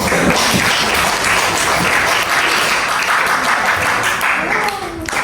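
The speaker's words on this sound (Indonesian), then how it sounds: "beri tepuk tangan kepada kawan" A classroom of students clapping steadily and loudly for several seconds, dense and sustained, tapering slightly near the end.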